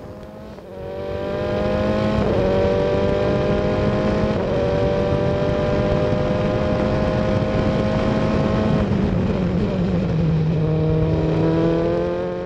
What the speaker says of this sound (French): on arrive à la chicane où il y a un gros freinage qui casse un petit peu cette vitesse et on reprend tout de suite une grosse accélération